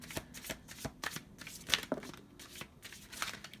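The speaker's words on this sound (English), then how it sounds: "Okay, these cards are just falling everywhere." Tarot cards shuffle and tumble in quick, uneven bursts of papery slaps and riffles, close and fairly quiet, with a few sharper snaps as cards hit and scatter.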